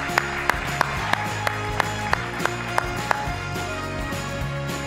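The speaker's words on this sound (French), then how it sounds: "On peut l'applaudir." A conference audience at an awards ceremony claps steadily for a prize winner, a dense wash of hand claps with sharp regular accents running through the whole stretch, moderately loud.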